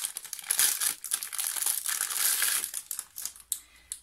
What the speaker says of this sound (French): C'est emballé dans un gros plastique.